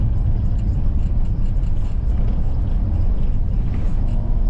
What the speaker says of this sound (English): With the 3-inch downpipe on the S1 header, sounds nice and quiet.